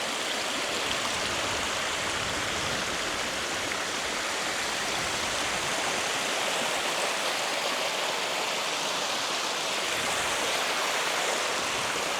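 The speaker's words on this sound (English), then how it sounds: "Amazing how it's washed all the sand away to make a little waterfall." A steady rush of running water, a small beach waterfall spilling over sand on Fraser Island, continuous and close, with no voices.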